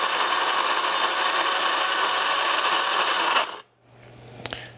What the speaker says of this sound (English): And I just grind directly into my portafilter.